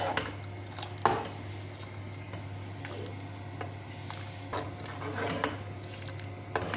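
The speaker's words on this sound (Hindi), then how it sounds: "इसको हम अच्छे तरीके से मिक्स करेंगे तकरीबन 1 से 2 मिनट के लिए और इसी तरह इसको" A spoon stirs a condensed milk mixture in a pot, faint scraping and occasional clinks of metal against the pot over a low steady hum.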